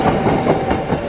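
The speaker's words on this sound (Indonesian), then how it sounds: "Kereta Serayu sudah melintas JPL 337." A Serayu passenger train climbing past a railway level crossing, heard as a steady, loud, close rumble of wheels and carriages rolling by without a break.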